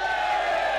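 A very short swell of cheering and shouting from a tournament crowd, dense and continuous for under a second.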